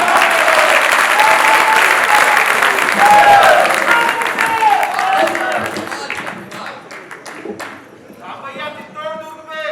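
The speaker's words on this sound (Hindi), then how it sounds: "आप लोग जोरदार तालियां।" A large crowd at a poetry gathering at a Dussehra fair in Kapasan, India applauds loudly and steadily, then the clapping thins out and fades toward the end.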